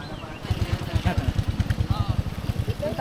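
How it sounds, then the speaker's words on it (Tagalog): A motorcycle engine putters steadily with a rapid pulsing rhythm as it goes by close on a hiking trail in Kayapa, with people talking over it. "Ay, may motor."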